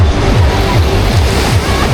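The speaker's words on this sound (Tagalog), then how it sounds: "Malakas na alon, nasa gitna lang." Strong ocean waves at Patar Beach in Bolinao, Pangasinan, a loud continuous roar of surf with rhythmic low swells and wind rumble on the microphone.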